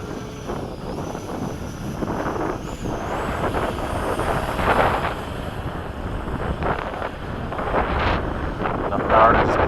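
An F-16 fighter jet flies a slow, high angle-of-attack pass at an airshow, a broad engine roar rising and swelling through heavy wind buffeting on the microphone, fairly loud and continuous.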